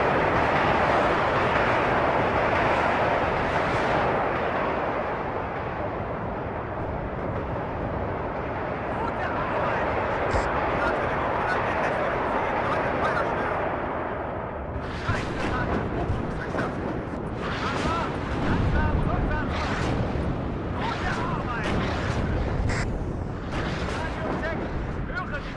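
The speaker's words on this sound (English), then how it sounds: "The cannon battery is going to come in pretty quick." Artillery cannon battery barrage in the WARNO war strategy game: a dense, continuous roar of distant shelling with rumbling impacts, growing sharper with sporadic bursts in the second half, while a voice talks over it.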